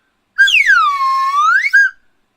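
A single sharp whistle blast rises, holds a long sliding tone, then ends with a short second chirp, loud and close in an otherwise quiet room.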